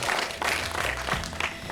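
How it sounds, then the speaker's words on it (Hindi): A studio audience in Bulandshahr, Uttar Pradesh, gives a short burst of loud, thick applause after a correct answer at a quiz. Claps run evenly with slight crowd noise. "जोरदार तालियां हो जाएं इनके लिए"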